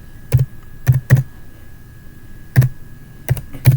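A command is typed on a computer keyboard in a Linux tutorial: sparse, close key clicks in small clusters with pauses between, alone on a quiet background.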